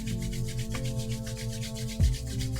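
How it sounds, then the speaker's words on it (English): Palms rub together in a slow, soft, continuous swish over a gentle sustained musical drone, with one brief louder brush near the end. "start to rub your palms together"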